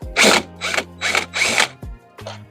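Power tool backing three screws out of a Honda CR-Z door panel, heard as several short loud whirring bursts with brief pauses between them, alone and close by.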